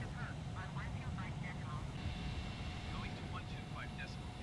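An F/A-18 Super Hornet in Microsoft Flight Simulator flies in landing configuration with flaps and gear extended near the destination airport, a steady low engine rumble under a voice talking throughout.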